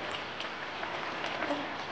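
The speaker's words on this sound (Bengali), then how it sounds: "প্রচুর বৃষ্টি হচ্ছে এখানে" Heavy rain pouring steadily, a dense, even hiss of falling water with no pauses, close and fairly loud throughout.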